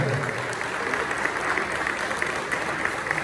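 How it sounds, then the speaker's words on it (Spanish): A crowd at a political event applauds a doctor being thanked, a continuous, even roar of many hands clapping at moderate distance with no voices rising above it. "Le vamos a dar un aplauso"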